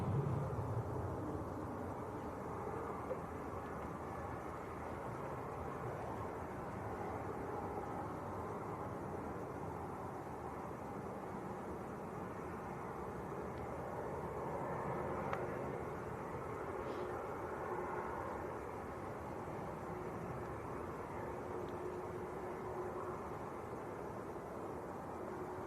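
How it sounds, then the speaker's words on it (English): A low, steady broadband rumble from an EasyJet Airbus A320 arriving from Belfast at Manchester Airport, holding at an even loudness throughout without a clear rise or fall. "Next arrival, EasyJet from Belfast, Airbus A320."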